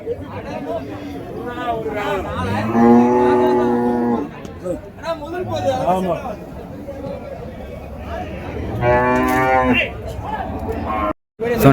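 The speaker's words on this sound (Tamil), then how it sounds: "நாட்டு பசு மாடுங்க" Cattle moo repeatedly at a livestock market in Uthangarai, several long low calls from native cows rising over a busy crowd of voices chattering nearby.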